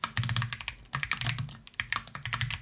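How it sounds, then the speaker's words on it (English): Quick, steady typing on a computer keyboard while entering gas, coal and oil as column labels, a close run of crisp key clicks in short bursts with brief pauses and no talking. "I'm just going to type those in."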